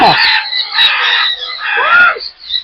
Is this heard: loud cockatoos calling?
yes